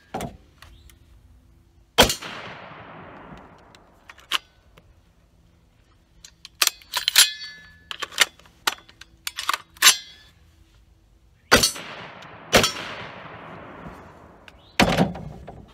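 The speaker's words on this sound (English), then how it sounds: "Four more rounds of 308." Four .308 rifle rounds strike steel body armor outdoors, each a sharp, loud crack with a decaying tail, irregularly spaced and mixed with several other impacts and clanks, with no voices.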